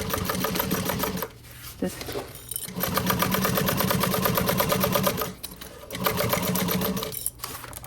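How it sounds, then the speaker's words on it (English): A sewing machine stitches a tote bag in several bursts of rapid whirring, with short pauses and brief reversals for back stitching, close up; a voice is faintly present at times. "back stitch at the beginning and the end"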